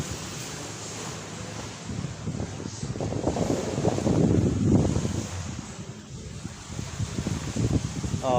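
Steady wind roars across the microphone at a beach in Daanbantayan, blending with the low wash of surf, a continuous loud rumble with people chatting faintly underneath.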